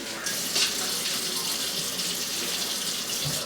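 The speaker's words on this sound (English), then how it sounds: "Some water on my dish rag." Kitchen tap water runs steadily onto a dish rag at a sink, a continuous soft hiss and splash with no talking.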